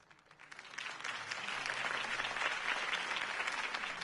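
Applause after Harvey Dent's campaign speech in Batman The Telltale Series, a crowd's clapping swelling from quiet to full and holding steady, heard at a moderate distance.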